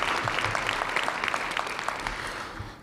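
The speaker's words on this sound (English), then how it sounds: "One more round of applause for your poet laureate" Applause for Ottawa's French-speaking poet laureate at a city council meeting, a dense, steady round of clapping from the chamber that holds for about three seconds and thins slightly toward the end.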